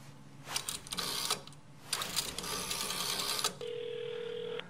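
A telephone rings in the horror video game White Night: bursts of a harsh, rattling bell with pauses between them, then a steady electronic tone, fairly faint and heard alone.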